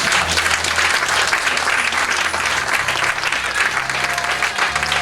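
A church congregation applauding together, a dense, steady wash of clapping from many hands that fills the room and carries on without a break, with faint voices mixed in.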